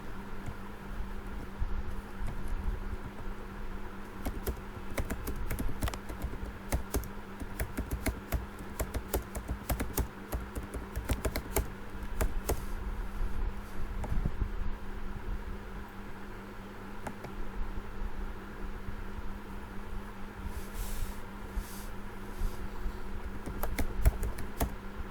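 Text being typed on a computer keyboard in a text editor: a long, fairly quiet stream of irregular key clicks over a soft steady background hum, with no voices.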